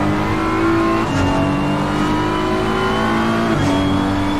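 BMW race car engine in a racing video game, heard on board at Hungaroring: a loud, steady high-revving drone with shifting pitch and brief gear-change dips, close and continuous with no talk.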